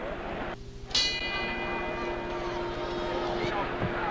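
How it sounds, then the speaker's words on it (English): A boxing ring bell rings once to start round 6 of the 1974 Muhammad Ali vs Joe Frazier rematch, a bright clang that rings out over the loud arena crowd noise. "the bell for round 6."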